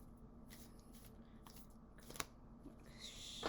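Quiet papery riffling and soft card flicks from a tarot deck being shuffled close by, with a couple of sharper snaps.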